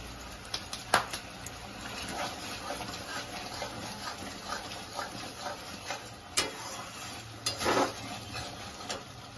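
Homemade masala with crushed fenugreek and sugar being sautéed for paneer butter masala, a faint steady sizzle with occasional stirring scrapes and utensil taps, no talk.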